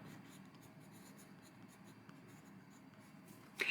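Derwent colored pencil drawing on paper: a continuous soft, scratchy graphite-like rasp of the pencil tip moving across the sheet, close and steady, ending in a brighter scrape.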